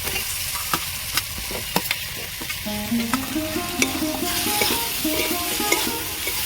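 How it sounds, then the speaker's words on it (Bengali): Potatoes frying in oil with cooked-down spice paste, crackling in a steady close sizzle while a utensil scrapes and taps the pan at an irregular pace. "ভালো করে তেলের সঙ্গে আলুগুলো কষিয়ে নেব"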